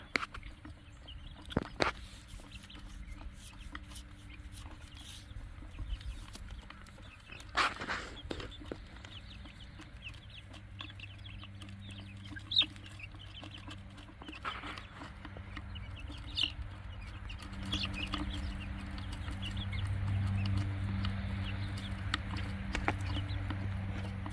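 Wyandotte chickens clucking around the coop at dusk, scattered soft clucks and low calls over a steady outdoor background, with a few sharper knocks and shuffles in between and no talking.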